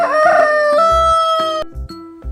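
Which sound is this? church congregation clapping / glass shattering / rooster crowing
rooster crowing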